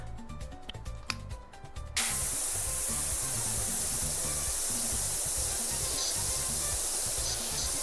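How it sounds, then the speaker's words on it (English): A steady pressure-washer jet in the PowerWash Simulator 2 game hisses loudly and continuously as soap is rinsed off a surface, starting abruptly after a quieter opening stretch. "Then we spray off all the bits of soap."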